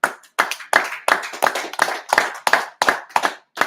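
Congregation at a Sabbath service clapping hands in a steady rhythm, about ten sharp, close claps spaced evenly, with no voices over them.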